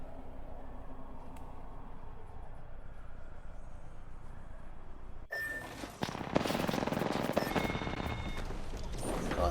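Rapid automatic gunfire from an Apex Legends weapon crackles in a dense burst after a quieter stretch of game ambience, loud and close with a sudden start.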